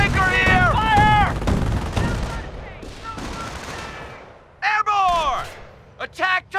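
Gunfire crackles in a Company of Heroes airborne battle on the Cauquigny causeway, sharp bursts mixed with soldiers' shouted orders and unit voice lines, followed by quieter stretches and a few more clipped bursts near the end.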